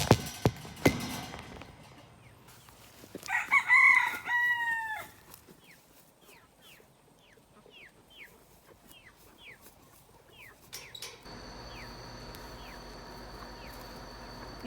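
A rooster crows at feeding time with a clear, drawn-out call around the middle, followed by a series of quieter chirps and clucks, while farm background noise hums throughout.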